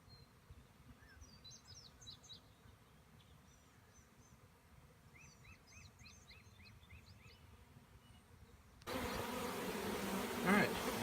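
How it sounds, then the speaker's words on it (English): Bees buzzing inside a hive box with comb-filled frames, a low steady hum for most of the stretch, with faint chirping nearby, then the buzzing suddenly swells much louder and closer near the end. "You see I've still got a good number of bees in here I need to get out."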